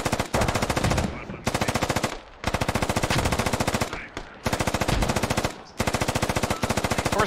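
Sustained automatic gunfire in the video game Squad, loud and close, long rapid bursts with short pauses between them.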